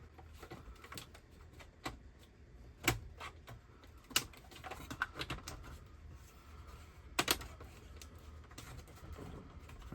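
Parts of a PowerBook 520c laptop being slotted back in during reassembly, quiet plastic clicks and light taps scattered irregularly with a few sharper snaps, close but faint, with no talking.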